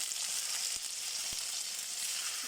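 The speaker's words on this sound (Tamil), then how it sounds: "இப்போது நம்ம மேரினேட் பண்ணி வச்ச சாப்ஸ் எடுத்து நல்லா இப்படி ஃப்ரை பண்ணுறதுக்கு அரேஞ்ச் பண்ணிக்கலாம்" Marinated beef chops fry in ghee with curry leaves, making a strong, continuous crackling sizzle, with two faint knocks partway through and no speech.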